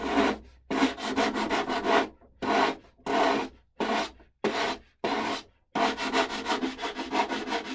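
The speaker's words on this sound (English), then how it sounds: "Just want to sand this in here." Wood being sanded by hand in a series of rough back-and-forth rubbing strokes, close and fairly loud, with short pauses between bursts and a longer steady run at the end.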